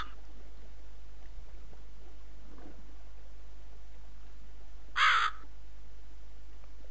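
Crow in the video game The Cat Lady gives a single short, harsh caw near the end, loud against a quiet background with a low steady hum.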